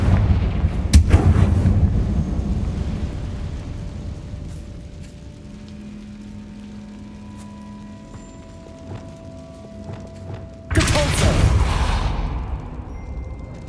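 In the Hogwarts Legacy video game, a Confringo blasting spell is cast at a barricade, opening with a loud booming blast, then a quieter lull with faint tones before a second heavy explosive burst near the end.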